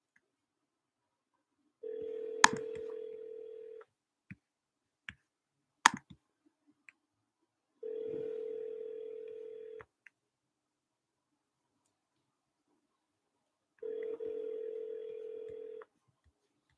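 A Magic Jack phone call rings out in three long, steady electronic ring tones spaced several seconds apart, with scattered clicks and a few sharp ticks between them.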